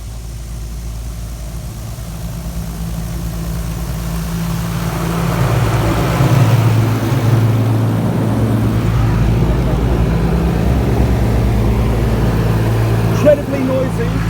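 Turbo nozzles at a Mr Magic Storm car wash in Cootamundra, NSW give a broad roaring spray that rises and stays loud and close over a low rumble, and people talk in the background.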